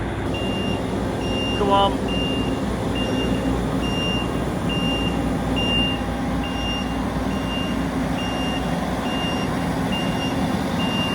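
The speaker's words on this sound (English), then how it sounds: "They're going to back the combine out of the shed now and load it on the low loader that they've brought." A combine harvester backs out of a farm shed with steady, evenly spaced reversing beeps over a constant engine rumble, and a voice speaks briefly partway through.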